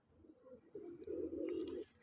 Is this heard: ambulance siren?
no